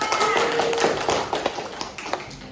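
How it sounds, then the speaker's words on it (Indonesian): Group of vocational school teachers clapping together in a room, a brief burst of brisk hand claps over a noisy background, with a faint voice in the mix. "Tepukan dulu untuk kita semua."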